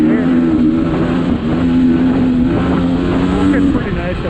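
Off-road vehicle climbing a rocky canyon trail in fourth gear, its engine a steady loud drone with a low harmonic hum, rumbling and jostling over rocks throughout.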